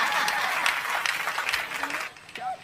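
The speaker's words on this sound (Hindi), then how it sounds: "अगले जवाब पे आपकी तालियां जरूरी है" Audience applause at a Hindi comedy poetry show, a lively burst of many hands clapping that carries on strongly, then fades as a voice begins speaking near the end.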